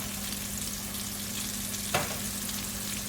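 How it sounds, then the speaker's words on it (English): Battered chicken pieces for General Tso chicken fry in a pan, a constant close sizzle under a low steady hum, with one brief scrape or stir near the middle and no voices. "gonna just fry these off until they are a nice golden brown"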